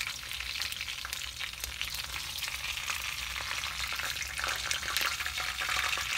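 Lamarang fish tail frying in hot oil, a steady dense crackling sizzle that holds throughout at moderate loudness, close up, with no talk.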